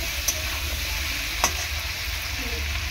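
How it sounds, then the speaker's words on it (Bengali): Potato and pumpkin pieces stir-fry in a pan with a loud, even sizzle, with two brief scraping strokes from the spoon. "ভালো করে কষিয়ে নেবো আলু আর কুমড়োটাকে।"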